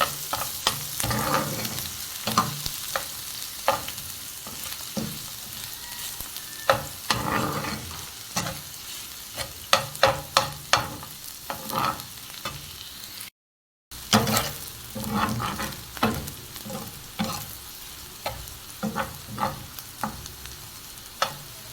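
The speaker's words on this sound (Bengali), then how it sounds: "এখন পেঁয়াজ আর রসুন ভালোভাবে লাল করে আমি দিয়ে" Onion and garlic sizzle steadily in a hot pan as a spatula stirs and scrapes in repeated strokes, close up, with no talking.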